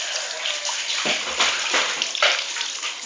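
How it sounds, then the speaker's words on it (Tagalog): Water runs steadily into a container, a broad continuous hiss with a few sloshing surges, close and fairly loud throughout, with no talk. "Punuin mo to ng water."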